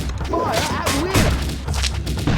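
Musket tower gunfire in the video game Kingdom Rush: a rapid volley of sharp cracks and thumps amid game music and a shouted character voice line.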